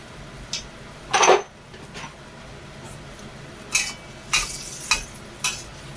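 Sponge gourd frying in a wok, a quiet bed of sizzle under a series of scraping, clinking stirs from a utensil against the metal, arriving in separate bursts.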